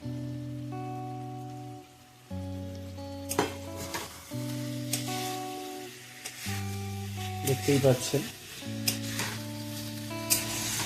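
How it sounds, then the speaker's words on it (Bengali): Eggplant pieces cooking in a pan with fried spice masala give a soft sizzle and scraping stirs, heard faintly under background music, with a brief spoken phrase. "আমরা বেগুনগুলোকে এই কষানো মশলার সাথে মিলিয়ে দেব।"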